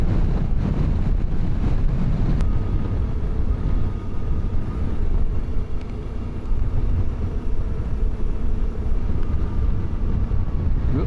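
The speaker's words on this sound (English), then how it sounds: "I'm sorry about the wind noise." Heavy wind buffets the microphone throughout, a constant low rumbling roar with gusty fluctuations and no clear voices.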